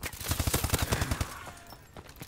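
Rapid automatic gunfire in Call of Duty: Advanced Warfare, a burst of about a dozen close, loud shots in quick rhythm that hit the player, then trailing off into quieter rattles and mechanical clicks.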